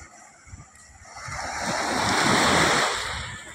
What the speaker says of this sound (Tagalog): Sumisimoy yung hangin, no? Yung simoy ng hangin yun, kakaiba.